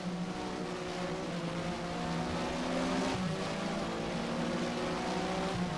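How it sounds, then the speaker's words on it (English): Porsche Mobil 1 SuperCup race car engine in Race07 at Valencia, Spain, sounding off and rough, holding a steady droning whine with shifting harmonic tones throughout, racing alone without talk. "The car is definitely sounding funny and it's not handling quite right"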